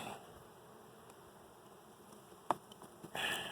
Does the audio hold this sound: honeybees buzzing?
yes